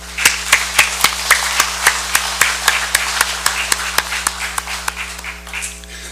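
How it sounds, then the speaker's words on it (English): An audience at the opening of the 24th Congress of the Federated States of Micronesia claps for a student choir, sounding as a few distinct, evenly spaced hand claps close to the mic rather than a full crowd roar. "May we have a round of applause for the COM FSM Students Choir."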